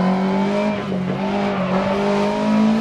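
An Alpine rally car races through a stage in DiRT Rally, its engine droning steadily with shifting pitch, loud and close, alone without voices.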